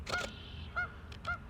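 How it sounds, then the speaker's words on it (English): Three short honks from geese at a pond, evenly spaced over steady low outdoor background noise, moderately close and fairly loud with no voices. "of these geese just doing their thing,"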